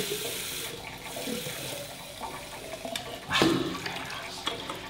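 Hot and cold water runs from a tap into a bath for a dog's wash, a continuous splashing rush with a brief louder surge partway through and small knocks, no talking.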